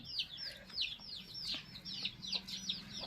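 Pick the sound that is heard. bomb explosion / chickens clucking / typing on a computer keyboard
chickens clucking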